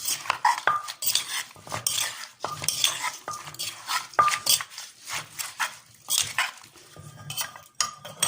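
A Thai cucumber salad with pork sausage, crab sticks and fermented fish sauce is tossed and stirred vigorously in a bowl, with continuous clattering, scraping utensil sounds, close and loud, and no talking.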